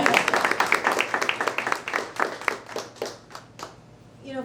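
A school audience applauds a student honored at a PUHSD Student of the Month ceremony: a burst of many hands clapping nearby, dense at first, then thinning and fading over a few seconds.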